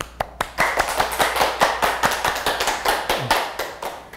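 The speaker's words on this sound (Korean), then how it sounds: "그럼 큰 박수로 한번 모셔볼까요?" A studio audience claps to welcome a guest speaker from a Busan migrant-rights organisation onto a talk show, with sharp, fairly even hand claps in a steady rhythm, close and moderately loud, with no talking.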